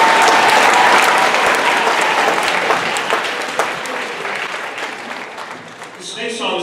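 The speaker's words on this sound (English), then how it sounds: "Please give a warm round of applause for Miss Kelsey Manera." Audience applause for a choir accompanist at a public school choir presentation, steady broadband clapping from a crowd that fades gradually toward the end.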